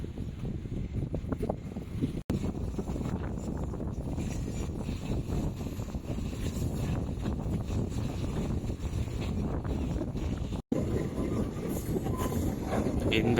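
Steady rumbling of the Tambaram–Bodinayakanur Express passenger train rolling slowly along with constant track and wind noise, continuous throughout with no voices standing out.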